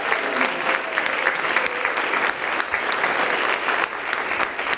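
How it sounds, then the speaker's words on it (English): Parents and guests in a school hall applaud after an elementary recorder concert, a full, steady round of clapping with distinct individual claps popping through, sustained and fairly close. "Can we just give another big round of applause to our first group, Miss Magnolo's class over on the Yellow Risers."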